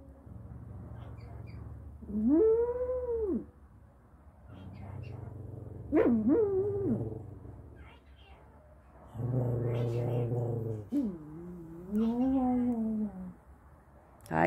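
Two pet dogs make whiny, yowling vocal noises in several bursts indoors, close to the microphone, with a voice speaking softly between them.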